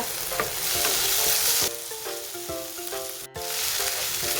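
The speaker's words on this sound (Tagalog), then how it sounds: "Ganyan lang, igigisa lang." Ant eggs (abuos) sautéing with tomatoes in a pan give a steady sizzle with repeated spoon scrapes and stirring clatter, close and fairly loud, with a brief gap near the end.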